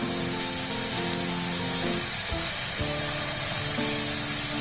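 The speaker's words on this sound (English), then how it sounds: "we'll fry this for about 5 minutes" Carrots, potato and raw banana sizzling steadily in a hot pan for bise bele bhath, a continuous bright crackle with soft clinks and scraping from stirring.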